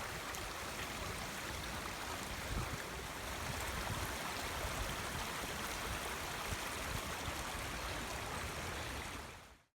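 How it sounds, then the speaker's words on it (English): A flowing stream among trees below a slope near Daventry Road runs in a steady, close, continuous rush of water, fading out at the end. "I'm surprised to find a flowing stream."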